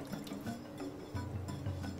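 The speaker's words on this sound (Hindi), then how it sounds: "एक पैन में हम 2 कटोरी पानी लेंगे।" Water pours from a bowl into a pan while kada prasad is being made, a steady close splashing fill with no talk over it.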